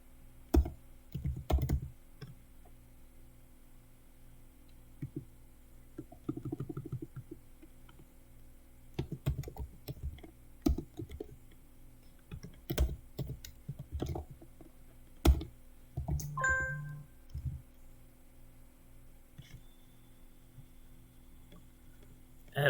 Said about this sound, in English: I'm gonna go on a limb and actually type it.